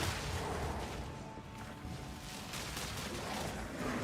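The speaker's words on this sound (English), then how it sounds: "Explosion!" A rumbling explosion rolls through the video game Path of Exile 2, a dense, sustained roar and crackle that stays loud and steady throughout without clear breaks, with no voices.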